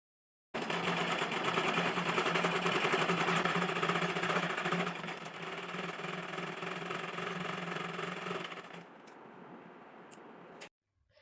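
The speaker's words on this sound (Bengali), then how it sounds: "আমি মেশিনে বসিয়ে সেলাই করে নেব।" An electric sewing machine stitches the folded hem of a palazzo trouser leg in one long, steady whirring run, loud and close, then eases to a lighter hum before stopping.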